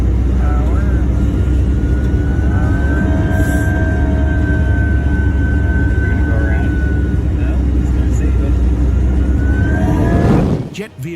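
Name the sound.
commercial airliner engine during stormy landing approach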